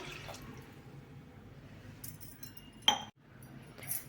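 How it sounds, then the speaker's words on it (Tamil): Water poured over lentils in a cooking pot in a home kitchen, with tomato already added: a faint, soft splashing with a few sharp clinks of metal or glass, close by and otherwise quiet. "இப்போது இதுக்கு பருப்புக்கு முழுகிற அளவுக்கு நம்ம தண்ணி ஊற்றிடுவோம்."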